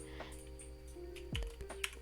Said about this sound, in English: and then type the password